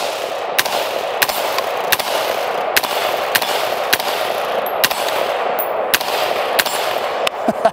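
Rifle shots are fired through a red dot sight outdoors, about a dozen sharp, loud cracks at a steady, fairly quick pace over a constant background rush.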